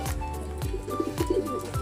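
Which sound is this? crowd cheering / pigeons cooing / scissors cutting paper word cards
pigeons cooing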